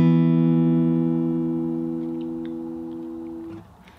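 Fingerstyle acoustic guitar phrase from a song: a single plucked chord with open strings ringing out and slowly decaying over several seconds before being damped, close and alone.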